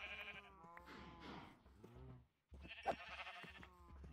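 Blocky Minecraft sheep bleat repeatedly in the game, with several overlapping wavering baas filling the clip and a short gap of silence near the middle before more bleating.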